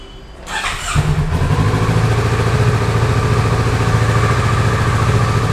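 A Kawasaki Z650 RS motorcycle engine cranks and catches within the first second, then settles into a steady, close, rumbling idle that runs evenly to the end.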